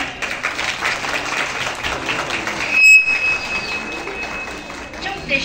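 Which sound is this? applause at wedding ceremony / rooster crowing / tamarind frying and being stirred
applause at wedding ceremony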